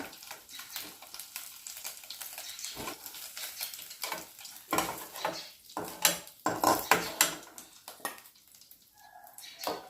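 Fried dry fish scooped from a pan of hot oil into a bowl in a home kitchen, with metal utensil scrapes, clinks against cookware and light sizzling, growing busier and louder toward the end.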